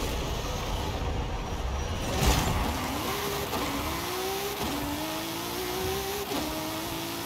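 An extreme drag car accelerates in Forza Horizon 5, its engine whine climbing in pitch and dropping back with each of several quick gear shifts. A muffled thump comes early, and no one speaks.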